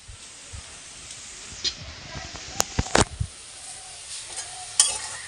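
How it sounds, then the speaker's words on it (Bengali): Potato and onion slices fry in a pan on a home stove, with a soft sizzle underneath scattered scraping and clinking as a utensil stirs them, several sharp metallic taps standing out, close by. "তো চলো আগে আলু ভাজাটা নামাই।"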